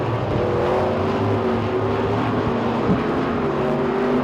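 Street stock race cars lapping at Talladega Short Track, a loud, continuous roar of engines droning and revving together, with pitch shifting as cars pass, close and unbroken.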